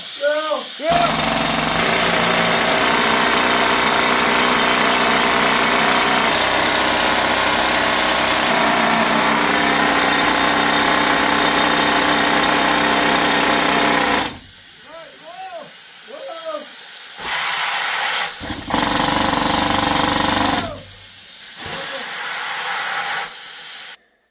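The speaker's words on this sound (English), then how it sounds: "we got our holes drilled" A loud, steady pneumatic rock drill hammers and hisses for about fourteen seconds while drilling holes at a small-scale gold mine, then shorter bursts follow with a whistle-like tone between them.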